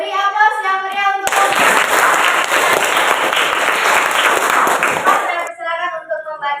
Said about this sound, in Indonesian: Beri aplaus yang meriah untuk